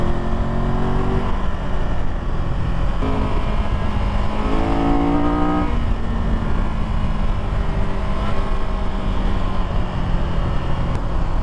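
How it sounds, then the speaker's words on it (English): A 2022 Triumph Tiger 1200 GT Pro motorcycle ridden hard on a twisty road, its engine revving loud and steady with rising and falling pitch sweeps as it accelerates through gears, wind roar underneath throughout. "The problem is I just can't seem to ride this bike slow."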